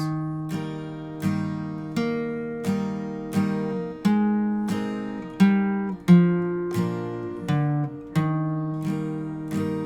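An acoustic guitar strums chords slowly and steadily, one ringing strum roughly every second, each left to sustain before the next, with no voices.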